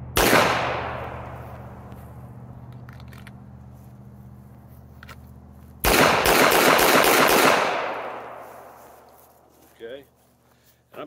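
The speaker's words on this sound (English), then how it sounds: "I'm shooting Hornady Critical Defense ammunition." A Sig Sauer P238 .380 pistol firing Hornady Critical Defense rounds cracks once, then fires a rapid string of loud, echoing shots that ring out and fade, followed by a short voice.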